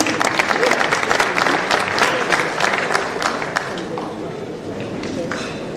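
An audience at a Kenya Film Commission awards event claps steadily and loudly for about six seconds, a dense crowd applause with voices mixed in.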